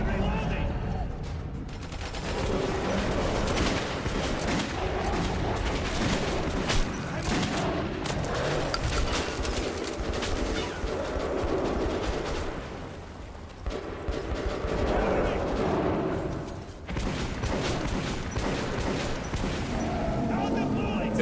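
Heavy gunfire in a video game, a dense, loud, sustained barrage of overlapping shots with brief lulls, and voices mixed in under the shooting.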